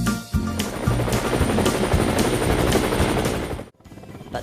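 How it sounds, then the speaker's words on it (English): Helicopter rotor chopping loudly with a rapid, steady beat, close and continuous for several seconds before cutting off abruptly near the end. "Helicopter."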